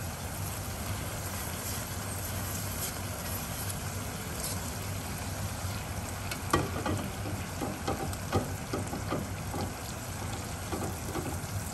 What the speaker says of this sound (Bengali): তো দিয়ে দিচ্ছি এখন চিকেন মিন্সটা পুরো।